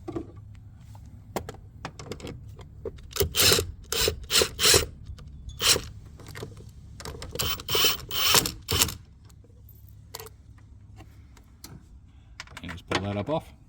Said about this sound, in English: the first thing you're going to want to do is the negative terminal on the battery. So you need a 10mm socket.